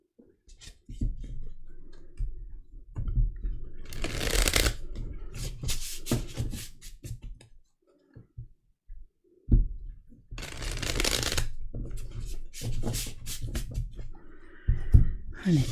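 Halloween oracle and tarot cards being shuffled by hand, several bursts of crisp riffling and flapping separated by short pauses, close to the microphone, with a soft voice speaking now and then between them.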